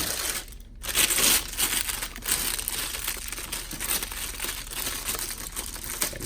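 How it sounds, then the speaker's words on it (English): A knife cuts through plastic wrapping on a boxed wireless microphone system, producing close, continuous crinkling and crackling with short tearing and rustling bursts. "I will unwrap the system right here. So I'm going to cut this with my knife."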